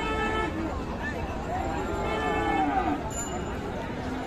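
Cattle at a rural livestock market where Friesian and crossbred bulls and calves are sold give a few faint moos, half buried under steady crowd chatter and nearby talking.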